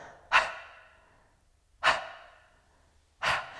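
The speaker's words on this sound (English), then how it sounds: "It's like you're darting the breath out." Three sharp, forceful breaths are pushed out through the mouth in Pilates breathwork, each a short breathy burst fading quickly, spaced about one and a half seconds apart, close and alone.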